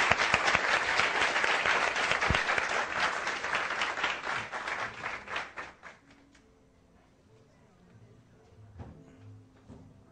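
Audience applause for the speaker at a Café Filosófico talk on ecological economics, a dense round of clapping that fades out after about six seconds, leaving quiet room sounds and faint talk.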